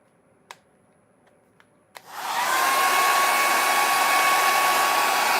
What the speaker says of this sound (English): I don't know if a hairdryer gets hot enough